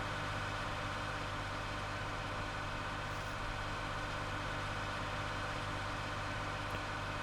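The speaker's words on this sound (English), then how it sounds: "The trailer's a little big for what the tractor's capable of." A tractor in Farming Simulator 19 hauls an oversized trailer, its engine holding a steady, heavy low drone for several seconds at an even, close level without pauses.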